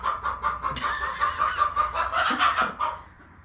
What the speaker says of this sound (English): I think a chicken laid an egg.